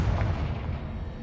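Confringo explosive spell blast in Hogwarts Legacy, a single deep, booming burst that decays quickly over about a second.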